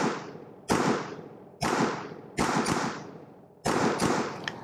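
Handgun shots fired by a shooter wearing tactical gloves: five sharp, loud reports with ringing decay, the first three widely spaced, then a quick double, then one more.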